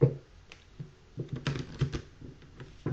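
Tarot cards shuffled by hand produce soft, quiet riffling clicks and papery taps in irregular bursts, with no talking.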